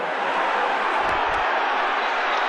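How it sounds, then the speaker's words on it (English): Boisterous football crowd at Highbury stadium before Arsenal kick off against Everton after heavy rain, a steady broad roar of many voices throughout with a brief low thump in the middle. "a good boisterous crowd here at Highbury for this one"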